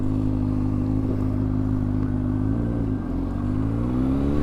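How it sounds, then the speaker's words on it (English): A motorcycle engine idles steadily and loudly right after a push start, with a deep, continuous rumble that dips briefly partway through. "You gotta fucking push start the bike first."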